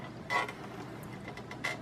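An expansion card is rocked into slot 6 of an Apple II, giving two short plastic-and-metal creaks about a second apart, close and fairly quiet, with no talking.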